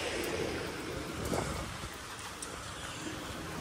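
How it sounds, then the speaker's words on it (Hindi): Steady monsoon rain falls in a soft, continuous hiss, with a few faint drips and no voices. "बारिश आ रही है ना"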